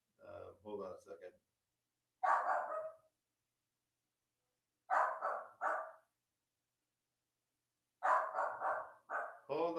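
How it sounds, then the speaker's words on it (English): A dog barks in several separate bursts of yips and barks, close and fairly loud, with silent gaps between them and no talking heard. "That's not going to help out if you're barking like that."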